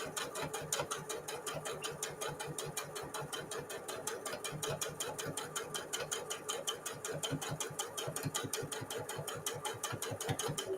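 A sewing machine stitches along a long fabric edge, its needle hammering in a fast, even rhythm of rapid clicks that runs steadily and close by, with no talking.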